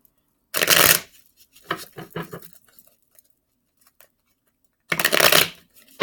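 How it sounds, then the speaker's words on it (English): Tarot cards being shuffled by hand in bursts: a loud riffle near the start, several softer taps and flicks in the middle, then another loud riffle near the end, close and without talk. "Some people say you shouldn't shuffle your cards this way."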